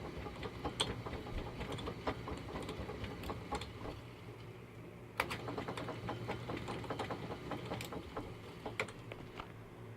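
An Atlas Craftsman 12x36 metal lathe turns at its slowest speed, giving a faint, steady mechanical whir with soft rhythmic ticks and gear clatter throughout, with no talking.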